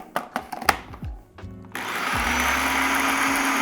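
A short series of knocks and clatter gives way to a steady, loud whir as a blender pulses chimichurri made with flat-leaf parsley, running alone at close range.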